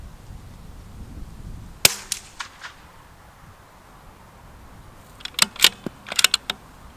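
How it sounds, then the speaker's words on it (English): A Bergara B14 HMR Carbon bolt-action rifle in .22 rimfire fires at a 50-meter range: one sharp, close crack followed by lighter mechanical clicks, then a later cluster of snappy clicks and cracks with quiet gaps between. "I'm going to shoot my first serious 5-round group"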